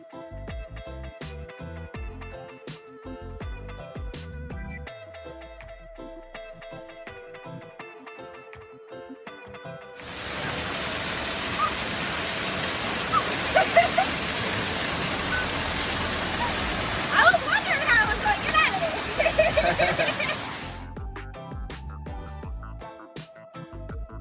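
Reach Falls in Portland, Jamaica, heard as a loud, steady rush of falling water for about ten seconds in the middle, set between stretches of background music.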